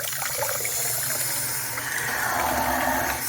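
Water gushes steadily from a removed kitchen cold water valve under a sink, a loud, continuous hissing flow that holds unbroken for a few seconds.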